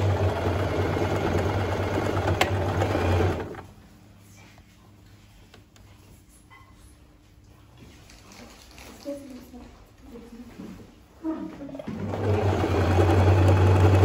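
A garment sewing machine stitches seams in loud continuous bursts at the start and end, with a quieter stretch between where someone speaks and fabric is handled.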